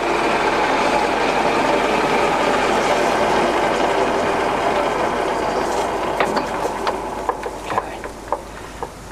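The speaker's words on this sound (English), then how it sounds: "So that's the spindle running, and it's at quite a low speed." Spindle of a Union BFT-80/2 horizontal boring machine turning at low speed, a steady mechanical whir and hum with clicking, ratcheting gear ticks growing more distinct toward the end.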